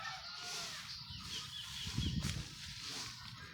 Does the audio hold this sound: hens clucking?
yes